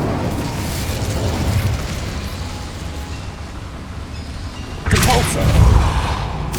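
A fire spell cast in the Hogwarts Legacy video game, heard as a steady low rumble that suddenly swells into a louder, boomy burst of flame near the end.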